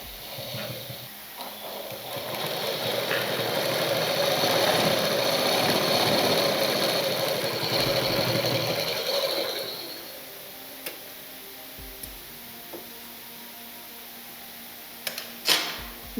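A sewing machine runs steadily while stitching a blouse lining, a continuous close whirring for about nine seconds that then stops, leaving a few light clicks and handling sounds.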